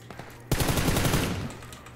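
After a quiet moment, a loud burst of rapid automatic gunfire in PUBG Lite rattles for about a second, then trails off.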